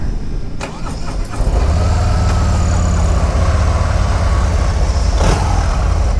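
A bagger racing motorcycle with a hydraulic clutch cranks briefly, then its engine catches and settles into a loud, steady, close rumbling idle.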